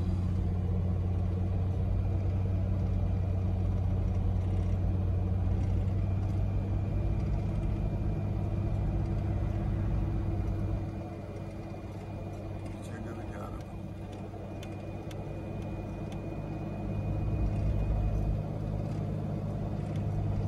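Car with an overhauled A440 automatic transmission on a road test, a steady low engine and road rumble inside the cabin that dips briefly, then builds again, with someone talking over it.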